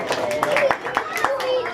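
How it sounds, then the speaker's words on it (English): A round of applause for helpers at a Halloween open house at a music school, scattered hand claps in uneven bursts with a voice and other chatter mixed in. "Can we give my helpers a big round of applause?"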